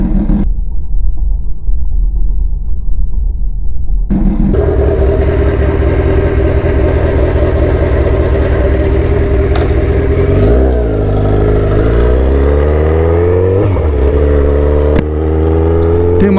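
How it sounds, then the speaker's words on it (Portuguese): A motorcycle engine runs loud and close, idling then revving, its pitch rising and falling as it rides, with steady low rumble throughout. "Porque eu tô de moto."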